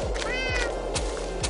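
A cat in the video game Minecraft gives a short, clear meow, close and loud over a steady rhythmic background of game sounds, with no talking.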